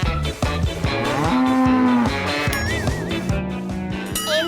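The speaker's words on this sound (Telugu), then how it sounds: "ఏమిటి నిజమైన ఆవు?" A cow moos loudly and close by in a long, drawn-out low call, followed by shorter lowing calls, with a few faint high tones behind it.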